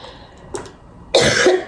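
A single short cough, close and loud, with a faint throat sound shortly before it, in an indoor setting during a makeup session.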